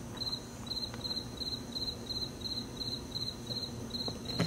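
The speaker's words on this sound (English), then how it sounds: "Shut up, Cricket." A cricket chirps at night in steady, evenly spaced rapid trills, close and clear above a soft background hum.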